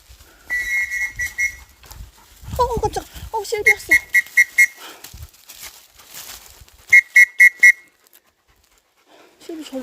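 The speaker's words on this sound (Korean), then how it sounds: "오빠 호루라기 한 번만 불어줘." A whistle gives a short blast, then two bursts of rapid, repeated shrill tweets, with a dog panting and whimpering nearby between them.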